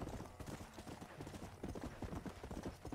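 Horse hooves clip-clop in Red Dead Redemption: Undead Nightmare, a steady, close, rhythmic trot that continues for the whole stretch with faint background game ambience.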